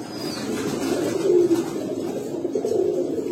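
A pair of pigeons kept for sale coo close by, their low, throaty, rolling calls continuing steadily without pause.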